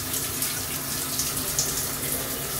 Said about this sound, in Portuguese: esse chuveiro é muito louco